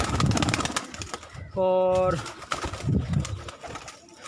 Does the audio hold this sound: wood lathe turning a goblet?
no